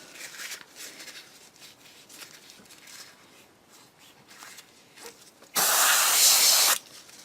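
An airbrush sprays during a quick colour change on a 1/35 British Chieftain Mk 10 tank model, one loud, steady hiss lasting about a second after quieter handling noises.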